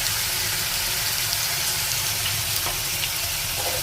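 Meat and spices sizzle and fry in a pan during home cooking, a loud, steady crackling hiss that carries on throughout, with faint stirring scrapes and no voices.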